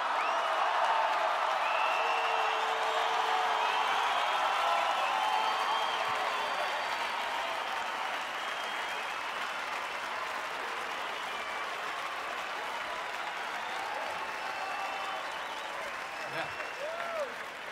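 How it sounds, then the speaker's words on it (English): A large concert crowd in Buenos Aires at a show applauds steadily and loudly, a dense wash of clapping with faint whistles and cheers that holds for the whole stretch. "Let's hear it for John."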